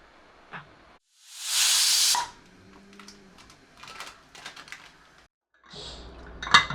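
A pressure cooker holding potato and green pea curry lets out one loud, rushing burst of steam, followed by quieter scattered metallic clicks and light clatter.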